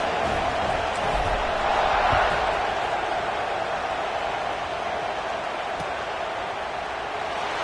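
Steady roar of a stadium crowd in an American football video game during a kickoff, a dense continuous wash of cheering that swells slightly and then holds level throughout.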